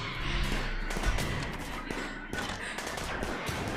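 Rapid bursts of gunfire from a RimWorld colony fight against mechanoids, dense overlapping shots with low thumps running continuously at moderate volume, no talking.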